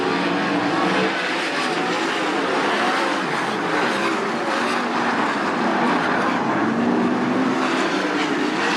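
Sprint cars roaring around the dirt oval at Attica Raceway Park in a late-race battle for the lead, a steady loud wall of engine noise holding for the whole stretch, with no talk over it.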